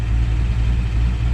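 A low-slung truck with a heads and cam tune idling close by, a loud, steady, deep engine rumble with a slight lope throughout.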